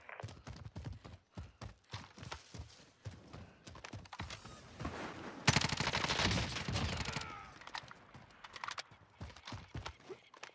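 Gunfire in the Call of Duty Warzone video game, with sniper shots among it: sharp, scattered cracks and thuds throughout, swelling into a dense, loud burst of continuous fire midway before thinning back to isolated shots.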